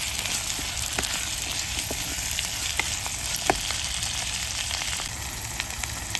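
Beef sizzling and frying steadily in a pan for a Kottayam-style dry fry, with curry leaves just added; a continuous close hiss with occasional stirring clicks and pops, no talking.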